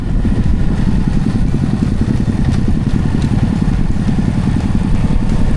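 A motorcycle rides along a hilly mountain road from Lama to Bandarban, its engine droning steadily and loudly up close with a dense low rumble and light mechanical clatter, and no voices.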